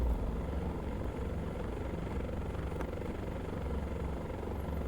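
A simulated helicopter in the X-Plane 11 flight simulator drones with a steady low rotor thrum and engine hum, constant and close, without talk over it.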